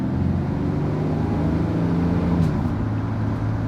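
A work truck with a Jasper remanufactured transmission drives along, its engine a steady low drone with a smooth, barely noticeable pitch shift as a gear change slips through around the middle.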